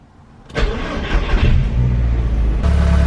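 A Volkswagen car engine cranks and fires up, settling into a loud, steady idle with a slight rev, heard close by with no talking.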